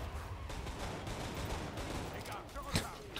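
Dense rapid gunfire in the video game Killing Floor 2, a continuous fusillade of shots packed closely together, loud and steady with a sharp burst near the end.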